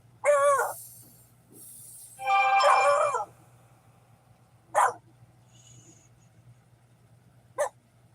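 A dog lets out a few sharp barks and yelps at irregular intervals, separated by quiet gaps with a low background hum.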